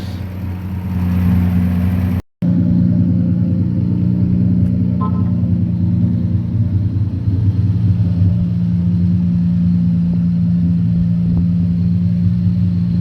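A turbocharged Hyundai Tiburon idles while warming up, giving a steady, loud, close rumble with an even low throb. The sound cuts out only once, briefly, near the start.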